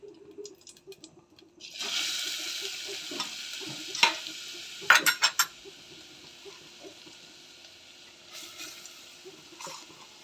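Grated carrots sizzle in melted ghee on a low flame while a spoon stirs them, giving a steady frying hiss with scattered scraping clinks and a brief burst of louder clatter.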